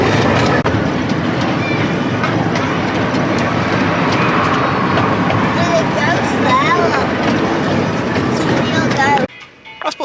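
A miniature train ride at the Lightwater Valley amusement park rumbles along steadily, its wagon noise and faint clacking continuous under people talking, then cutting out near the end.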